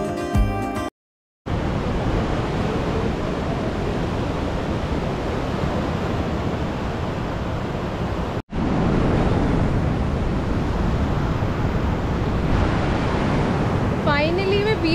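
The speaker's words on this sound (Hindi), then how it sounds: "बीच पे आ गई हूँ यार," Ocean surf at Kovalam beach rushes in a steady, loud broadband wash, blended with wind buffeting the microphone, broken by a couple of brief cut-outs.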